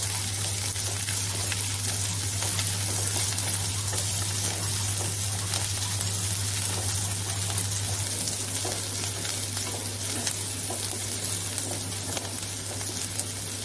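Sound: onions sautéing in a pan

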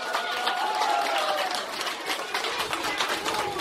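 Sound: audience of parents applauding

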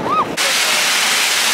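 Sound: waterfall in southern Iceland

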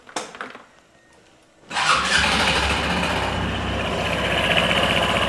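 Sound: scooter engine starting and idling

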